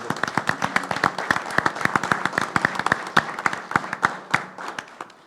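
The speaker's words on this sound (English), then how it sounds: "we're going to give them a round of applause." A round of applause at a city commission meeting, a room of people clapping in quick uneven bursts that stay steady and moderately near, then thin out toward the end.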